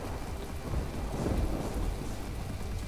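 Steady heavy rain pours in From The Depths, a naval combat game, with a low rumble of thunder swelling through the middle, dense and constant without any voices.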